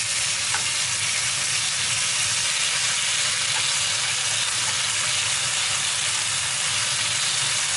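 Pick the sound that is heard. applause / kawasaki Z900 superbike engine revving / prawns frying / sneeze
prawns frying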